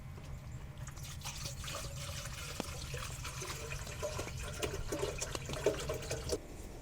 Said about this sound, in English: pour water right in here.